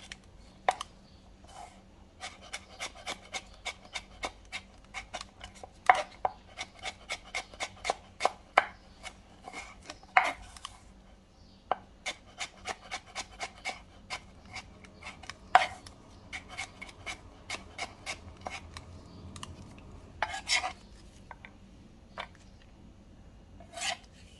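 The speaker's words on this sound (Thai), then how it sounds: "แครอทก็จะหั่นเป็นเส้นๆ" A kitchen knife slices carrots into thin sticks on a cutting board, giving a steady run of crisp, close chops in quick bursts with short pauses between them. No one speaks.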